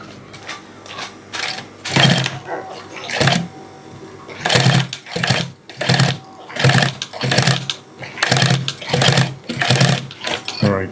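A sewing machine stitches leather mule shoes in short, loud bursts of rapid mechanical chatter, starting and stopping about a dozen times with brief gaps between runs, close up and with no voices.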